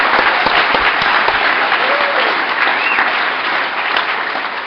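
An audience at a recovery convention gathering applauds the convention committee, with dense sustained clapping close by that fades slightly toward the end.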